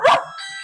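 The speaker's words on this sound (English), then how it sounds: "sorry, my dog's barking." A single short dog bark close to the microphone, a quick sharp yap followed by a faint high ringing tail, with nothing else around it.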